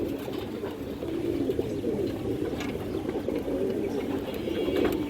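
Several domestic pigeons coo steadily and close by in a loft, a continuous low rolling burble with no voices over it.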